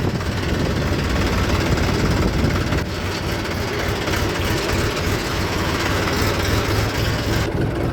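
A Swaraj 724 tractor engine runs steadily at a work site near new residential colonies, giving a continuous loud low rumble with broadband noise throughout and no talk.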